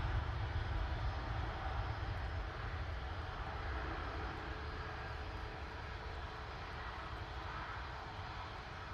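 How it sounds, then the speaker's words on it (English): A Ryanair Boeing 737-800 departs Manchester Airport, its jet engines giving a steady, broad roar that stays loud and fairly near throughout and eases off only slightly toward the end, with no talking. "Ryanair 737-800. Now off to Oslo."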